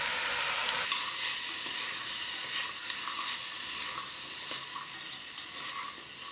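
Potatoes and vegetables sizzle as they are stirred together in a pot for a chunky butternut soup, a constant close frying hiss with light scraping accents.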